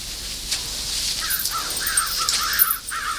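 A flock of crows caws over a palace roof, with several harsh calls that repeat in a steady string and overlap, loud and close, with no talk.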